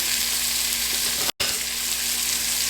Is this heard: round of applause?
no